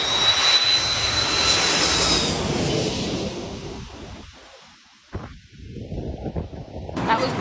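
A plane comes in to land at a Taipei airport and passes low overhead with a loud jet roar that slowly fades, followed by gusty wind noise.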